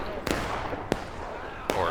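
Artillery cannon fire in the Civil War battle game War of Rights, on the Antietam map: three sharp, loud booms spaced apart over a steady background of battle ambience.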